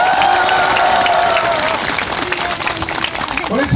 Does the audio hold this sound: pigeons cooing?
no